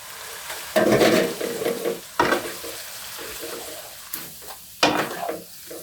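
Spicy bamboo shoots with minced pork and glass noodles stir-fried with holy basil and spring onion in a pan, a steady sizzle broken by several loud scraping stirs of the spatula, close and without talk.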